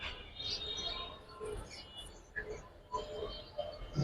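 Pigeons kept at a Bangladeshi breeder's collection, with faint short chirps and coos scattered over a quiet background, near and soft.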